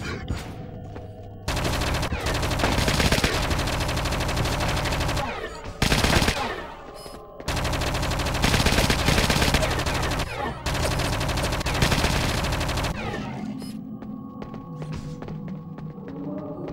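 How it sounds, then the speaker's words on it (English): Sustained bursts of rapid automatic gunfire from the PS2 video game Project Eden, loud and dense, broken by short pauses before quieter game ambience at the end. "I'm under fire."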